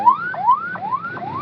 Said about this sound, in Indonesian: Ada ambulans, silakan mau berangkat.